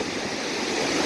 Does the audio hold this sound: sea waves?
yes